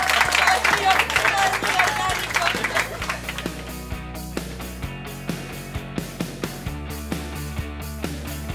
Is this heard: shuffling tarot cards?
no